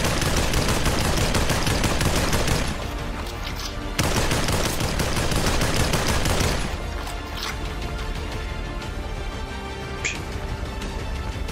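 Gunfire from a sniper rifle and other weapons in the Population One VR shooter game, dense rapid shots and bursts filling the first seven seconds, then thinning to sparser, quieter shots with occasional sharp cracks.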